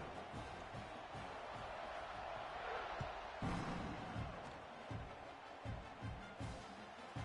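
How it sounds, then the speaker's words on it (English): A stadium crowd roars at kickoff in the College Football 26 video game between Florida and another team, a faint steady murmur with bursts of cheering and a few sharp thuds, heard under quiet commentary. "They're set to kick it off, and this crowd now ready to get behind them."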